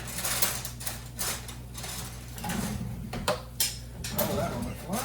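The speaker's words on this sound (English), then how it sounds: "you want to grab some chopsticks or tongs and mix it up even further" Chopsticks or tongs clatter against a bowl while a Chinese side dish is tossed and mixed, with irregular close clinks and scrapes over a low hum and faint talk.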